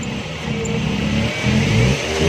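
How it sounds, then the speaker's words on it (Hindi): A car engine running on CNG revs up and holds at raised speed during gas tuning, a loud, close, continuous drone with slight swells in pitch and no talking. "गैस पर रेस कर रखें, फिर इसको थोड़ा सा और रेस दें।"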